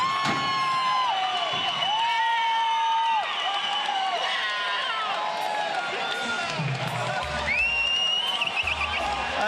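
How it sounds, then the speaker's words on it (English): Hometown crowd roars and cheers in a standing ovation after Salar Gholami's third-round stoppage win in a Canadian heavyweight boxing title bout, a loud sustained arena din with whoops and an announcer talking over it. "His hometown crowd giving him the standing ovation"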